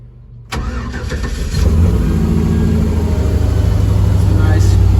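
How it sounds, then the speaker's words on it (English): An LS-swapped farm truck engine cranks and catches on a cold start, jumping from near silence to a loud, rough roar that climbs further as revs rise, then settles into a steady, heavy fast idle up close. "I figured I'd give you guys a nice little cold start."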